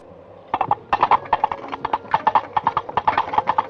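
Coconut shells knocked together as a Foley effect imitating a horse's hooves, a brisk, steady clip-clop of hollow knocks, close and loud, running continuously after a brief pause.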